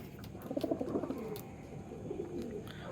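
Soft, low cooing from a pair of Kalanka pigeons rolls out in a short burst, pauses, then returns more quietly, with faint background hiss.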